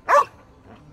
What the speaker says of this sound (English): You bought a dog instead of food.